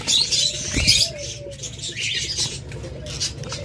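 A caged diamond dove flutters and hops restlessly, its wings giving quick soft flapping bursts near the start before quieter scuffling. The sounds are close and unaccompanied by talk.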